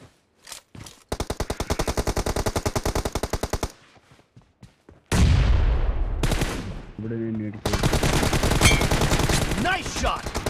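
Rapid automatic rifle bursts in the shooter BGMI, several long rattling strings of close, loud shots separated by short pauses, with a few single shots and brief in-game noises between them.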